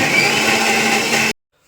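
A mixer grinder blends kokum (punarpuli) leaf chutney with a loud, steady whir for just over a second, then stops abruptly into silence.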